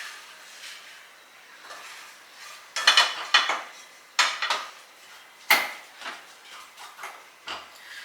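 A thickening mixture is stirred in a pan over a low to medium flame, quiet scraping punctuated by several clinks and knocks of a utensil against the metal pan, irregular and close.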